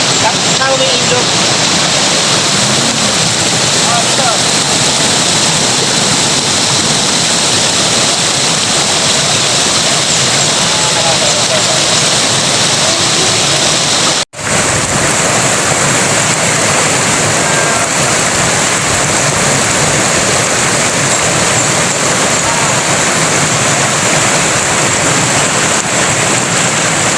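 A river stream in Barangay Gabas, Buhi, Albay, rushes steadily as a continuous broadband wash of flowing water, loud and close throughout with a single brief dropout midway.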